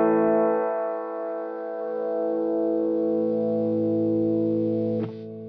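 Electric guitar through EQ with low frequencies boosted, giving a deep rumbling sustained chord that rings steadily for several seconds before being cut off abruptly, close and loud with no talking.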